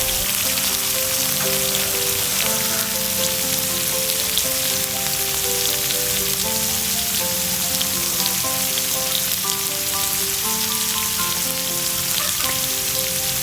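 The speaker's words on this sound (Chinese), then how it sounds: "炒到洋葱稍微透明了我们再放入我们的鱿鱼 还有再来20克的绿胡椒哦" Squid, onion and green peppercorns stir-fried in a hot pan give a steady, loud sizzle with continuous crackling, joined by a repeating melodic backing tune throughout.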